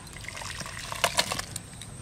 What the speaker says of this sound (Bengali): আমড়াটা সেদ্ধ হয়ে গেছে, ঢেলে নেব।